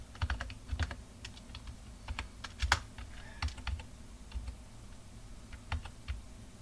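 Quick, irregular keystrokes on a computer keyboard during a Linux server install, clicks clustered in short bursts with small gaps, close and fairly quiet over a low hum, no talking.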